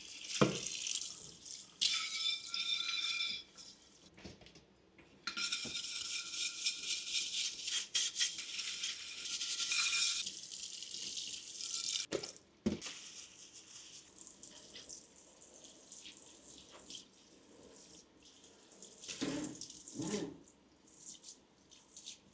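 Tap water runs into a sink in bursts while a plant saucer and garden snips are washed with soap, with splashing, rattling and brief pauses between flows, no voices.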